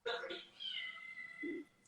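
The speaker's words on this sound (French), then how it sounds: "C'est mon chat qui miaule, il veut rentrer." A cat meows a few times nearby, one drawn-out cry and a shorter one, in an otherwise quiet room.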